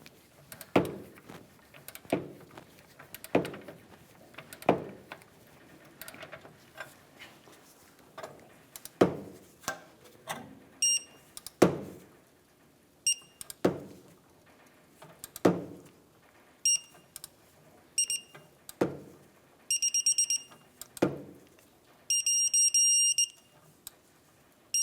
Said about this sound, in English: So I'm going to put my wrench on the back.